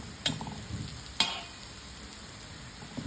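Food shallow frying in oil on a low gas flame, giving a steady soft sizzle with two sharp clicks of a utensil against the pan.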